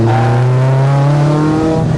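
A heavily modified mk2 Volkswagen Golf GTI engine roars loud and close, revving steadily upward in pitch with a raspy, aggressive exhaust note.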